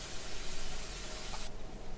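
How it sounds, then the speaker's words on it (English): Water sprays onto a freshly planted garden plant in the House Flipper video game, a steady close hiss lasting about a second and a half before cutting off to a quieter background. "give it a nice spray of some nice cool water"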